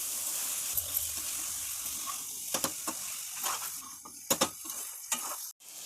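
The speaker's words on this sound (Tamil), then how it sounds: "நம்ம வறுத்து வச்ச வெங்காயம் சேர்த்து வதக்கலாம்" Fried onions sautéed in a pan for a palak chicken gravy give a steady soft sizzle with scattered sharp clinks and scrapes of a spoon stirring, fairly close and without any voices.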